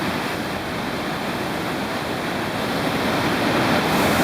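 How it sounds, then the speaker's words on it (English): Turbulent Bow River water rushing out from under a dam, a steady, dense roar of churning water that swells slightly louder toward the end, with no voices. "The volume of water here is just ridiculous."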